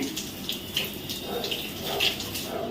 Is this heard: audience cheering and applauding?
no